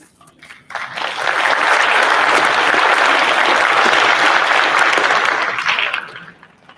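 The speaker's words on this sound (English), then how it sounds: "Please join me one more time for a round of applause for all those amazing public servants we recognize today" A crowd claps at a sheriff's office promotion and awards ceremony; the applause swells quickly after a quiet start, holds loud and dense for several seconds, then fades out.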